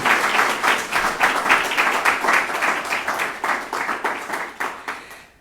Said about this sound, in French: Je pense que ça vaut une bonne main d'applaudissement